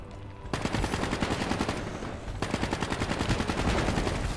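Rapid automatic gunfire from Call of Duty: Black Ops 3 rattles loud and close in two dense bursts, the second longer, with no talk over it.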